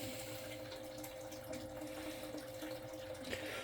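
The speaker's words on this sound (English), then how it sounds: "Dump the excess water." Excess water is tipped out of a potted plant's container that is failing to thrive, making a faint, steady trickle and pour with a low background hum.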